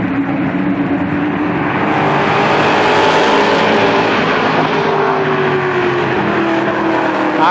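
Race cars roar around Columbus Motor Speedway in 1998, a loud, continuous engine drone with shifting pitch as the pack runs through turns 3 and 4, under steady crowd-like noise.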